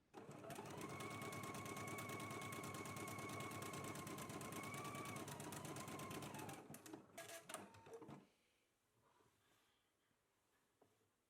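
A sewing machine stitches the reinforced crotch seam of a toddler garment, running in one steady, close whirring burst for about eight seconds before stopping, followed by quiet handling.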